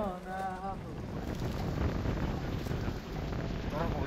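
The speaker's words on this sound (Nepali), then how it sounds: "कस्तो दामी हावा चल्यो" Strong wind buffets the microphone on a mountain hiking trail at Daedunsan in Daejeon, South Korea, a loud continuous roar with brief voices at the start and end.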